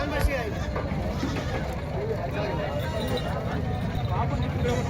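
Goats bleat loudly among a dense crowd at a village goat market in Vasmat, Hingoli, with steady babble and people talking close by throughout.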